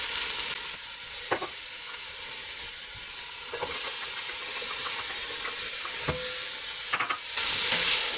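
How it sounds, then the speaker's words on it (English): Onions and mushrooms fry in avocado oil in a pan for sausage and mushroom pasta, giving a steady close sizzle with occasional stirring scrapes and brief louder crackles, and no voices. "I'm gonna add a little bit more oil and then the onions."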